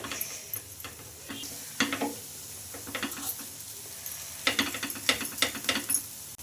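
Moong dal fritters fry in a pan with a low sizzle under scattered scraping and tapping clicks, probably a spatula turning them, close and without speech.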